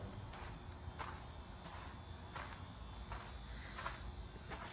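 Small bugs buzzing around outdoors at a historic site in West Boylston, Massachusetts, a steady close insect drone with brief flitting passes, no talking.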